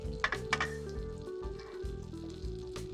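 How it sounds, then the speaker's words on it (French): Butter melting in a crêpe pan sizzles softly and close by, with a couple of sharp pops early on over a low, steady kitchen hum. "je fais dissoudre le beurre gentiment dans la poêle"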